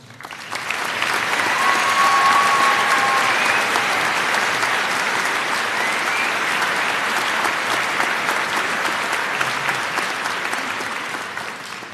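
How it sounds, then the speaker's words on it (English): A large crowd at a high school commencement applauds for a graduate, a dense wash of clapping that swells quickly and holds steady for about twelve seconds before slowly tapering. "please join in honoring her with a round of applause"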